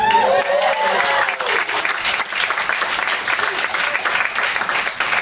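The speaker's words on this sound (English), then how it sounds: "I always get applause for that" An audience at a poetry reading breaks into warm, sustained applause that carries steadily through, with scattered clapping filling the room.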